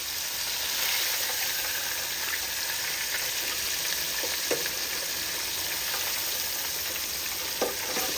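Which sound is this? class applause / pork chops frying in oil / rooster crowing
pork chops frying in oil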